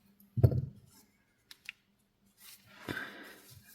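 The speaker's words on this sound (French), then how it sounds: "je vais couper le fil" Scissors snip crochet yarn with a close, crisp cut, followed by a couple of small ticks and soft handling rustles in a quiet room.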